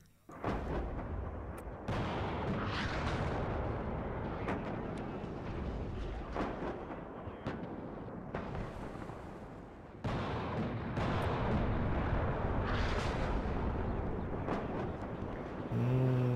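Artillery fires in the Cold War strategy game WARNO: a loud, dense run of heavy booms and rumbling blasts that keeps going with short breaks and no talking.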